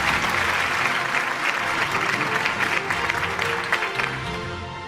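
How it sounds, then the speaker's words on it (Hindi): An award show audience applauds loudly and continuously, a dense wash of clapping from a large crowd that fades slightly toward the end, with no talk over it. "भरपूर तालियां होनी चाहिए आप।"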